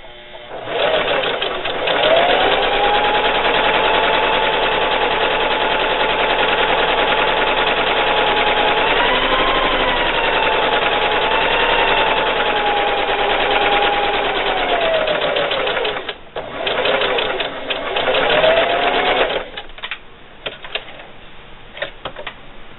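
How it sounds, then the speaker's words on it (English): A sewing machine stitching fabric runs in a steady, fast rhythm for a long stretch, briefly pausing near the end before a few more stitches. "So I'm going to start stitching here."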